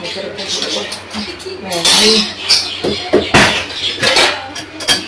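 Dishes being washed in a home kitchen: steel utensils, pots and plates clatter and clink against each other close by, in irregular bursts over running activity, with some voices faintly in the background.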